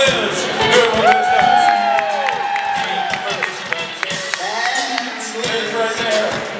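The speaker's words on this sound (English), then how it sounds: "Round of applause for Liz" Convention audience at a fan panel stage claps and cheers, steady crowd applause with whoops and shouted voices layered throughout, loud and continuous.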